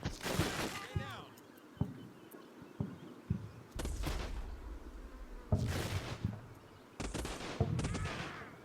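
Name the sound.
gunfire in a WW2 battle, video game Combat Mission: Fortress Italy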